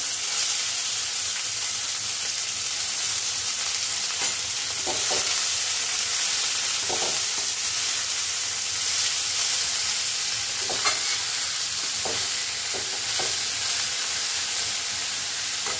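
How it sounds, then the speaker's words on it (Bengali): Red spinach (lal shak) hits a hot pan with peanuts and fries, producing a continuous close sizzle and hiss broken by occasional soft scraping stirs. "এবার দিয়ে দেব শাক, দিয়ে দিই।"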